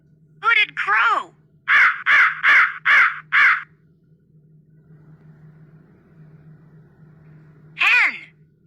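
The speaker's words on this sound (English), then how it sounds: "Hooded crow." A hooded crow gives a run of five harsh, evenly spaced caws, loud and near, between short bursts of a voice speaking.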